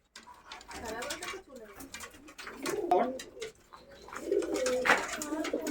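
Pigeons coo repeatedly in soft, rolling bursts nearby, with a few other birds chirping faintly in the background.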